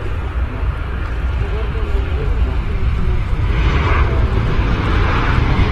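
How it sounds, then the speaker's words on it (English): A TUI Boeing 737-800 airliner with scimitar winglets lands at Brussels Airport, a steady, loud jet roar and low rumble sustained throughout, with voices faintly present beneath. "Fast approach in those 737s."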